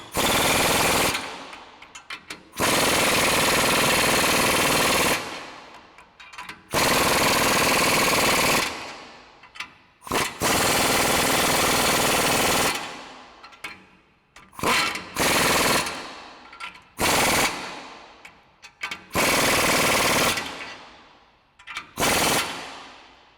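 Rear lowering-kit bolts on a 2015–2020 Ford F-150 driven tight with a power impact tool: loud, rapid hammering bursts of several seconds each, separated by short pauses, repeated about eight times, close and without talk.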